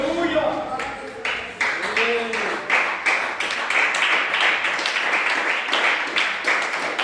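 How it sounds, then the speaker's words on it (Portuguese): A church congregation applauding for Jesus, clapping that builds from a few hands into a dense, close ovation while a voice speaks over the start. "daquela linda salva de palmas para Jesus"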